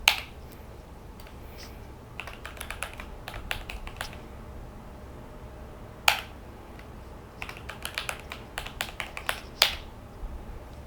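Typing on a computer keyboard, bursts of quick close clicks and key taps separated by short pauses, with an occasional louder single key strike.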